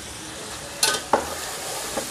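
Chicken is being bhuna-fried in a pan, a low steady sizzle broken by two or three sharp clinks and scrapes from a stirring spoon in quick succession.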